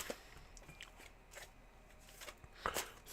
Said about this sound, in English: Here are your 7 official shuffles.